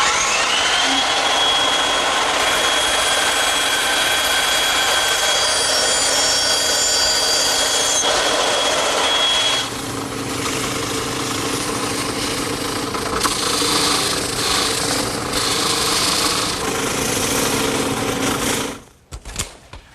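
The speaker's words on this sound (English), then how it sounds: "I'll just use my bandsaw." A bandsaw slices through wood stock to cut a curved elevation on a rail for an umbrella stand, a steady loud whine and rasp running for most of the clip before the cut ends and the machine winds down.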